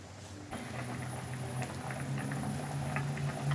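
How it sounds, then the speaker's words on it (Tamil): A village-style Tamil fish kuzhambu (bat fish curry) simmering in a pot, a steady bubbling and popping patter that stays soft and continuous throughout, with no talking. "குழம்பு நல்லா கொதிச்சு மீனும் நல்லா வெந்து வந்திருக்கு"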